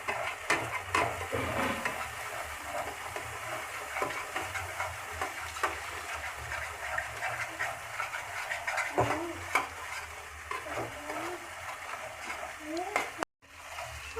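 Turmeric, salt and chili powder fry in a hot pan for ghugni, a steady sizzle broken by the scrape and clatter of stirring throughout.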